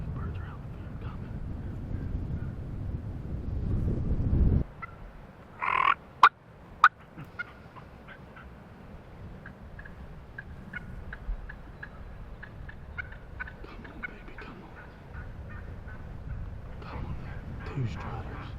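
Wild turkeys in a field gobble in a few short, distant bursts, faint against wind noise and quiet outdoor background.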